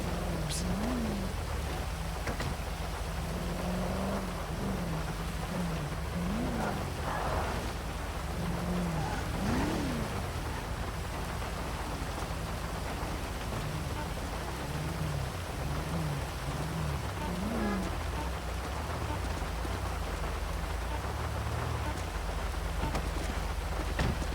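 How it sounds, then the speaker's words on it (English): Steady in-game rain in GTA roleplay pours down throughout, a dense hiss with a faint voice murmuring in the background. "I hate the rain at this server, or on this game."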